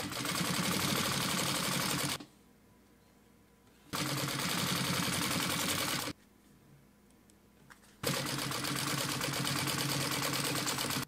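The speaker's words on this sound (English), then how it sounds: "Make an adjustment, sew a line." Sewing machine stitching a test line on a scrap strip while stitch length and tension are being tuned, three loud steady bursts of rapid needle chatter separated by short quiet pauses, no talking.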